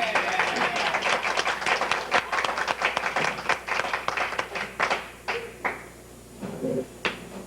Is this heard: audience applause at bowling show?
yes